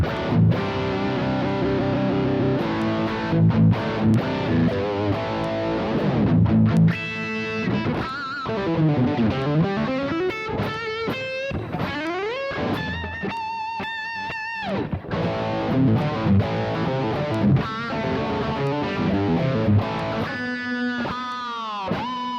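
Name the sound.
Westone Pantera X390 electric guitar played on bridge pickup setting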